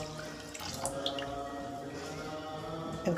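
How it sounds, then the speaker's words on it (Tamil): Thick coconut milk poured from a vessel into a cooking pot for sago (javvarisi) payasam, a steady liquid trickle and splash running throughout, close and moderately loud. "இப்போ வந்து தேங்காய் பாலை ஊற்றிக்கிடுவோம்"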